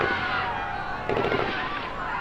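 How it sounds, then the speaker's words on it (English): Gunfire from the H1Z1 video game, heard as a burst of sharp cracks and pops partway through, set against continuous background noise. "Don, was that gunfire?"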